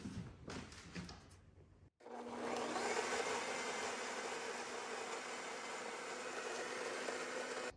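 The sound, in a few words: blender blending with shredded parmesan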